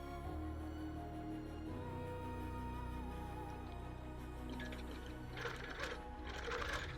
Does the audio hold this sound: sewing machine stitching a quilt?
yes